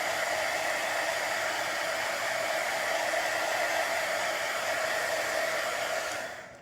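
A hair dryer blows steadily on chalk paint, a loud, even whooshing roar with no talk that runs unbroken and then cuts off near the end.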